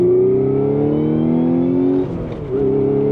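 A nearby 2016 Audi S5 manual's engine revs steadily higher in pitch toward redline, droning loud for about two seconds, briefly easing off, then climbing again.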